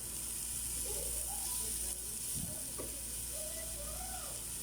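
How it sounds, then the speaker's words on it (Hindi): Garlic and chili paste sautéing in a pan over a low flame, giving a soft, steady sizzle and hiss with the occasional faint stir or scrape, close and quiet. "अब इसको सॉटे होने देंगे। अब हम इसको रख देंगे थोड़ी देर सॉटे होने के लिए एट लो फ्लेम।"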